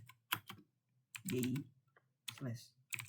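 Scattered keystrokes on a computer keyboard while a command is entered, a few sharp close clicks in short bursts, broken up by someone speaking.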